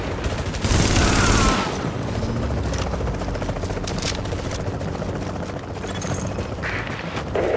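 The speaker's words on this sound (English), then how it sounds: "Chopper is inbound." A helicopter in The Division video game, a loud continuous rotor and engine drone mixed with bursts of gunfire, close and dense throughout, with no voices.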